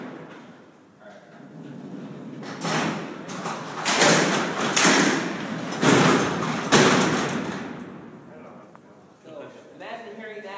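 Heavy steel cell doors at Alcatraz prison roll and slam shut with a loud metallic crash and rumbling clatter, near and echoing, while a person talks before and after.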